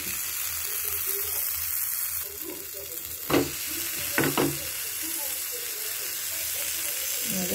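Buttered bread toasting in a pan, a steady hiss and light sizzle broken by a few brief scraping or tapping sounds partway through.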